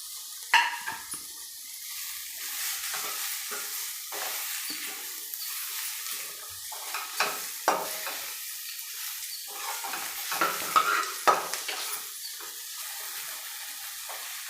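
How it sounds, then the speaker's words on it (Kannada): Fried bitter gourd stirred into masala in a pan, a continuous gentle sizzle broken by scraping and tapping strokes of the spoon, close and steady without speech. "ಈಗ ಫ್ರೈ ಮಾಡಿರೋ ಹಾಗಲಕಾಯಿ ಸೇರಿಸ್ತೀನಿ"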